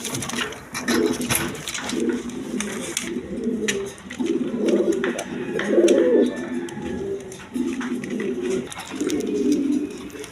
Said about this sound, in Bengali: দেখেন একদম কোয়ালিটি সম্পন্ন কবুতর।